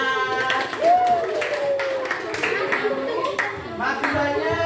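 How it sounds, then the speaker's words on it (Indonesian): A group of participants in a teacher-training class session clap: loose, scattered hand claps at an uneven rhythm, mixed with a voice speaking over them. "terima kasih tepuk tangan"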